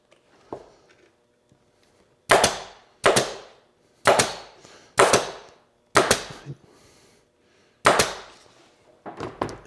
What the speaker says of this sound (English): then I could come in with my staple gun again.